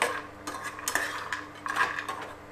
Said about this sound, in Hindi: मैं अभी बड़ी को डाल देती हूँ। अच्छे से मिला लेती हूँ तेल के साथ।